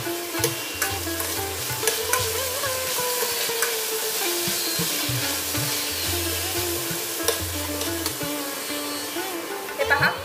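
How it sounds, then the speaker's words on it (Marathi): Peas and mixed vegetables sautéed in a pan for mini Maggi samosa filling, with steady frying sizzle and repeated stirring scrapes throughout, close and fairly loud, no talking. "त्यानंतर मटर घालूया, थोडंसं व्यवस्थित परतून घेऊया या।"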